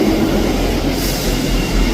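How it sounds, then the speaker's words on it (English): A Scotrail class 158 diesel unit pulls into Edinburgh Haymarket station, giving a steady, loud rumble of wheels and engine with faint squealing, continuous throughout. "Arriving in now is the 12:39 Scotrail service from Perth to Edinburgh Waverley."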